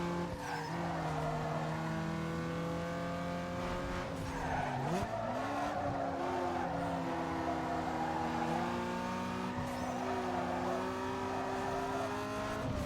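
A race car in Need for Speed Underground 2 brakes hard into a corner with tires skidding, its loud engine dropping in pitch, then steady engine drone resumes; no talking.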